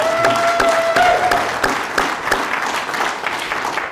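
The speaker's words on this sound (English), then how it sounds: "Would you give Scott a hand of applause, please?" Town hall audience in a Priest River community hall applauding, with distinct individual claps popping out of a fairly loud, close, continuous round of clapping that gradually thins toward the end.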